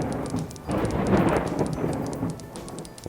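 Lightning storm in the video game WorldBox, with a low rolling thunder rumble over steady rain patter and faint crackles, continuous and fairly loud with no voices.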